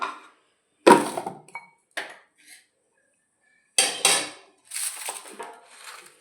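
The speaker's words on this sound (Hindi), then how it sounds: "अब मैं मांज लेती हूँ थोड़े से बर्तन, जो मेरे बर्तन पड़े हैं" Metal tea dishes and pots being washed and scrubbed by hand, with scattered clanks and knocks between scraping bursts and quiet gaps.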